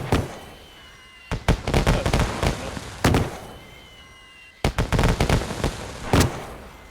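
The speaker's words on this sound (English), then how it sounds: "Oh, Chris, it ruined the fireworks that were next to it." Fireworks go off nearby in irregular clusters of sharp bangs and crackling pops, separated by short lulls of low background noise.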